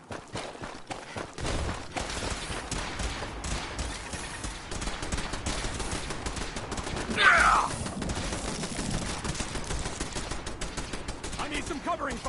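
Gunfire in Fallout 4, a long run of rapid, repeated shots and clattering bursts that continues steadily at moderate loudness, with a voice calling out partway through.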